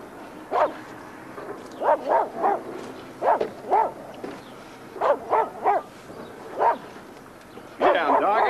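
A dog barks again and again in short, sharp yips and bow-wows, some in quick pairs and triplets, with brief gaps between. The barking is close and loud over a quiet background.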